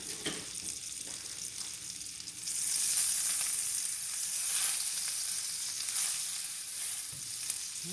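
Thyme and rosemary sizzle in butter with added olive oil, a soft frying hiss that swells and grows louder partway through, then stays steady, heard close with no one speaking.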